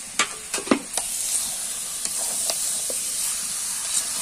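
Chicken pieces for a coconut curry sizzle steadily in hot oil while a spoon scrapes and stirs through them, with several sharp clanks near the start over a constant frying hiss.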